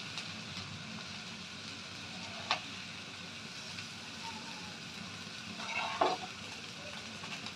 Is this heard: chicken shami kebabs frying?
yes